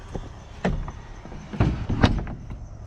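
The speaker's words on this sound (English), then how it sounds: "We're going to close the door." A door to a hot herb-drying room being pushed shut, giving a few close, hollow knocks and a firm thud with a rattle near the end, with no talking.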